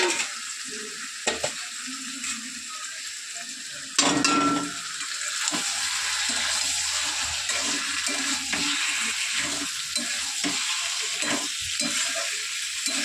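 Poultry meat hits spiced masala in a hot kadai and sizzles loudly, with a sharp burst of frying at the drop followed by steady crackling and occasional stirring scrapes, no speech.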